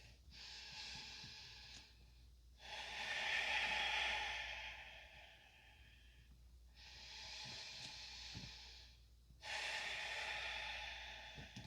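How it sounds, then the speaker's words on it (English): Slow, deep yoga breaths close to the mic, four long broadband inhale and exhale swells alternating in a steady rhythm, with no talking. "Deep breathing."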